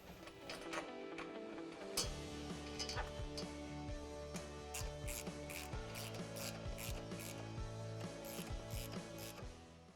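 A ratchet clicks steadily for the whole stretch while nuts are snugged onto the bolts of a Tusk cargo barricade on a Can-Am Maverick X3, with dense, close, overlapping mechanical ticks.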